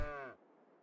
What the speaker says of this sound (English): should we buy some cows?